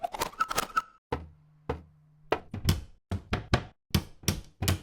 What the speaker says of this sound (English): wood and cupboard sounds